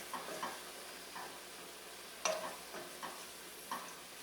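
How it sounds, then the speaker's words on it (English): Holiday pasta with prosciutto is heating in a pan, making a soft, quiet sizzle broken by a few light taps and one sharper clink of a utensil, close by and with no voices. "I'll start heating this through"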